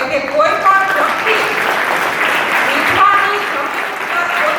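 An audience at a talk on Ahilyabai Holkar breaks into applause, loud, steady clapping filling the hall, with some voices mixed in beneath it.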